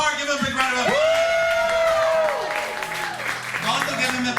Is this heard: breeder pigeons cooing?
no